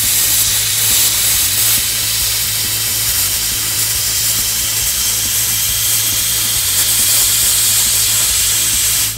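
Plasma cutter slicing through stainless steel, a loud, steady, roaring hiss that holds constant throughout, close up, with a low electrical hum underneath and no talking.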